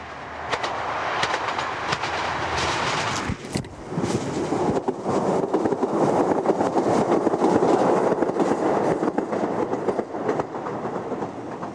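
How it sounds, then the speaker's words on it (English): A train clatters steadily through the boulder-strewn Pass of Brandon beneath Ben Cruachan on Scotland's west coast line, a loud continuous rumble of wheels and carriages with a brief dip midway before the rolling noise swells again. "after the trains pass beneath the shadow of Ben Cruachan"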